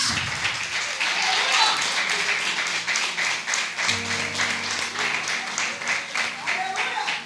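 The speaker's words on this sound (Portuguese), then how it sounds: "Bate palmas para Jesus." Church congregation clapping along in steady rhythm during a worship service, many hands together at close range, with voices singing or talking over the continuous claps.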